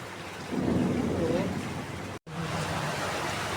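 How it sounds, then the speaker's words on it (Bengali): Heavy rain pouring outside a house, a constant loud hiss throughout, with a person talking over it early on and a brief dropout partway through. "অনেক জোরে জোরে বৃষ্টি হচ্ছে"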